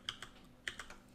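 A computer keyboard clicks in two quick pairs of key presses for a Ctrl+D duplicate shortcut, faint and close, with no talking.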